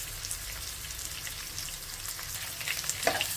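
Onion pieces frying in a pan with curry leaves for a Rayalaseema ugggani dish, a steady close crackling sizzle with scattered pops and a slightly louder burst near the end.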